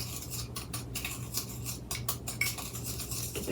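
Sourdough English muffin dough being stirred after baking soda is added, with close, scraping and clinking utensil strokes against a bowl in an irregular rhythm over a steady low hum.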